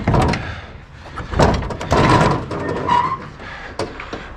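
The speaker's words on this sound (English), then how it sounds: "in order to do it, I have to open the door." A truck trailer door being opened, with several sharp metallic clanks and knocks, a scraping slide and latch clicks close by, spread through a few seconds without talk.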